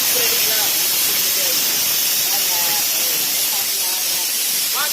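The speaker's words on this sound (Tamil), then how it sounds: "தலை எலும்பு சூப் கொதிக்குது" Head bone soup boils hard in a pot, giving a loud, steady, close hiss of steam and bubbling that carries on unbroken throughout.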